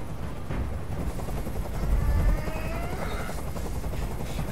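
A helicopter hovers overhead in Detroit: Become Human, a continuous loud rotor drone with rhythmic chopping pulses that swells briefly midway and stays steady throughout.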